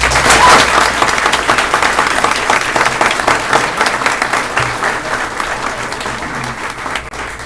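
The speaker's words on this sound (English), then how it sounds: "So let's give another round of applause." Loud, sustained applause from a school board meeting audience cheering state champions, a dense wash of many hands clapping continuously and close, with faint crowd noise beneath.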